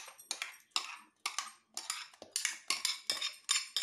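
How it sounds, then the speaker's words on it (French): A spatula stirs salt into flour in a bowl, making about ten brisk rhythmic scraping strokes with light clinks against the bowl, close and clear with nothing else behind it. "Je prends une spatule, je mélange comme ça pour bien répartir le sel à la farine"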